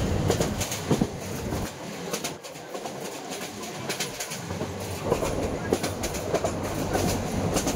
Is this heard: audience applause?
no